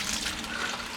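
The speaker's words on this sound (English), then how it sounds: "This water is coming out super hot" Hot water gushing steadily out of a copper wort chiller coil, a loud continuous splashing flow at close range with no talking.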